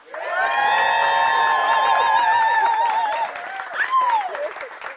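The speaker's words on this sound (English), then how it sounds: "she's a rock star, so just a big cheer for Pam." An audience at a Startup Grind Sacramento event applauds loudly and cheers with whoops for a biotech founder taking the stage. The clapping is dense and sustained for about three seconds, then thins out while scattered shouts linger.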